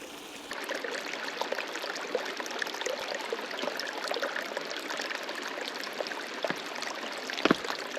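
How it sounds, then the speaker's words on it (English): A small mountain creek at a campsite flows and trickles steadily, a close, continuous watery wash with a few brief splashes near the end. "Got a little creek right down here"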